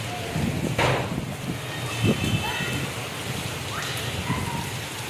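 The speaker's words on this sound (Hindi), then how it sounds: "बहुत तेज़ हो गई है बारिश।" Heavy rain pours steadily in a dense hiss, with occasional gusty rumbles and brief louder spatters close by.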